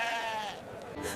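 A sheep bleats in a single wavering call that lasts about a second, close and fairly loud, with some background noise.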